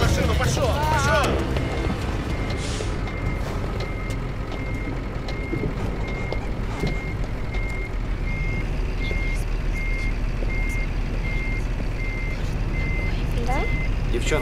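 A reversing truck sounds steady, evenly spaced backup beeps over a loud engine rumble, with people talking nearby throughout.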